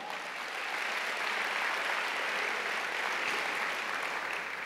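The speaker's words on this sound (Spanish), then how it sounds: "Denle un aplauso al Señor" A church congregation applauds for the Lord during a Spanish-language service, a continuous, even wash of clapping that sounds slightly distant.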